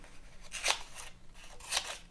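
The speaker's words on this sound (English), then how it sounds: "Scissors do work well." Two crisp snips from the bypass scissors of a Ruike M42-N Swiss Army-style multitool, each a short bright cut near the mic, spaced about a second apart over faint background hiss, with no talking.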